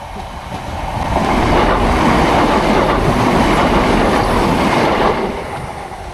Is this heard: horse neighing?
no